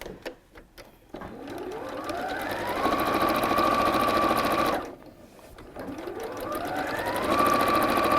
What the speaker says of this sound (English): So I'm just going to sew around these three sides, and again close up to the edge of the bosal